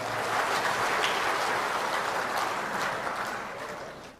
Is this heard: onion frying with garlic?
no